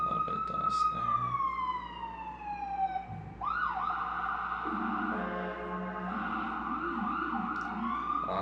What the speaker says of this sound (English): Lots of ambulances always around here.